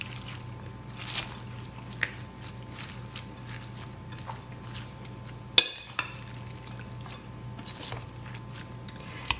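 Shredded cabbage salad being tossed with a vinegar dressing, quiet wet squishing and soft clatter at close range, with a sharper knock midway and a few light taps.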